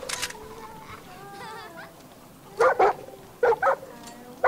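Dog barking in the video game Far Cry New Dawn: four to five short, loud bursts of barking in two-bark pairs, starting midway through and over a quieter background with a faint voice earlier on.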